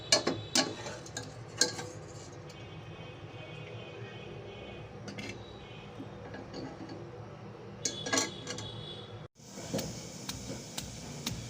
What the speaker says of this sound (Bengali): মাংসগুলো এইভাবে ছেঁচে নিতে নিতে হবে